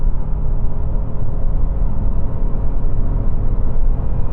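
A Toyota Yaris Cross compact SUV accelerates hard during a timed test run, a steady loud engine and road rumble with a continuous droning whir and no voices.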